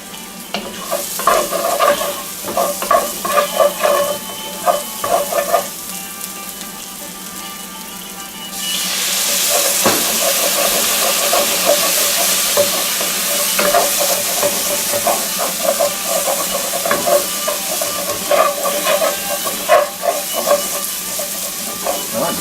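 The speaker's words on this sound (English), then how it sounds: "That garlic is browning down nice in there, so we're going to go ahead and stir that around and deglaze a little bit." Browning garlic stirred in a pan, rhythmic scraping and frying at first, then a sudden louder surge of sizzle and steam as the pan is deglazed, continuing with ongoing stirring.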